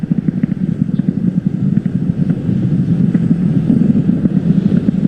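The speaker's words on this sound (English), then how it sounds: "So we're going to throttle up those engines again on these side boosters." Roaring, steady rumble of Falcon Heavy rocket engines in flight on the Viasat-3 Americas launch, side boosters throttling up after max Q; a loud, continuous low-pitched thunder with crackling texture, no talk.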